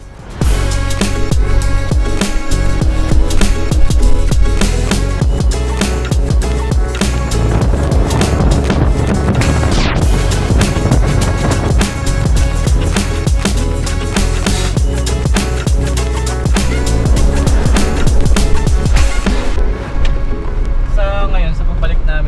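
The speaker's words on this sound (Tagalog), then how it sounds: "tignan naman natin kung paano mag-perform ang aming mga modified off-road vehicles dito sa ating test ride" Modified off-road vehicles on a test ride over a rough, bumpy road at Mapanuepe produce a loud, continuous engine rumble with rattling and heavy wind buffeting against the microphone throughout.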